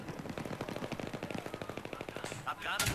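Rapid burst of Battlefield 3 gunfire, about two dozen evenly spaced shots in quick automatic rhythm, followed by a couple of louder sharp bangs.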